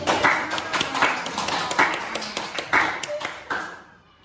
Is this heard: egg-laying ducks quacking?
no